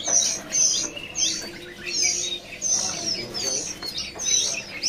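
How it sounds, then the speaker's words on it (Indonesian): Pentet matahari shrike at a bird market, giving repeated high chirping and whistled calls in bursts close by, with faint market background noise. "Ada juga burung pentet matahari"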